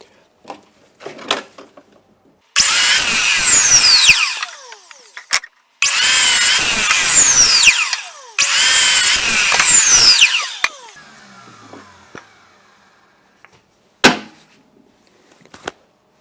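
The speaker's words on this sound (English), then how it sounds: "my right hand is pulling the saw down, and my waist is on this side." Hand saw cutting wood for chair pieces in three loud, sustained bursts of rapid rasping strokes, close up, separated by short pauses and a few knocks, with no talking.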